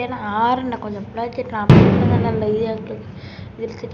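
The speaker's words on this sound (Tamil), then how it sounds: "அது பட்டாசு வெடிச்சே தான் அதுக்கு சத்தம் கிட்டு தான் இருக்குது." A firecracker bursts loudly partway through, its sharp crack trailing into a crackling decay, set off during a New Year celebration while someone talks before and over it.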